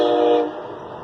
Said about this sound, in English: My train, Amtrak.